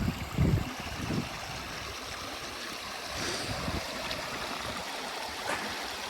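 A moorland stream running high rushes steadily near a walker crossing on slippery rocks, with a constant broadband wash and a few louder splashes early on.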